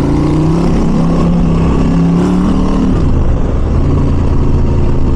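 A car passes close on a rural road, its engine tone rising then dropping away as it goes by, loud and continuous with no voices.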